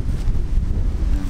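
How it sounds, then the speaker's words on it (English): Strong gusting wind on a golf course buffets the microphone with a loud, steady low roar and no voices over it. "it's seriously windy today"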